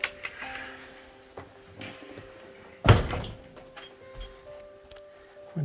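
The front door of a house opens and closes, with light creaks and rattles, one sharp thud in the middle and a few softer knocks around it, heard close by in a quiet room.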